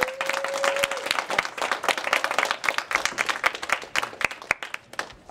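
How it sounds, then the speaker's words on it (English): An audience at a high school film festival applauds the filmmakers, a steady wash of many hands clapping for several seconds, with a brief held tone at the start. "Let's give it a round of applause for our filmmakers."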